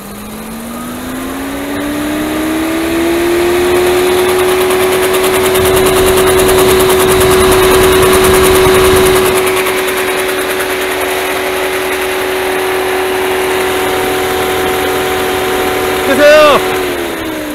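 A Bosch electric cooling fan fitted to a Dodge Dakota with a 4.7-liter V8 runs up with a steady rising hum over the engine idle, holds a loud even drone, then eases down and cuts off near the end.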